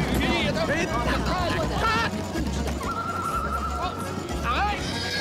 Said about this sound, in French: Comment est-ce qu'on fait pour arrêter ce cheval-là?